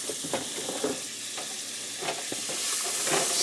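A pan heating on a woodstove for searing roast beef gives a steady sizzle and hiss, broken by several soft scrapes and knocks at irregular intervals.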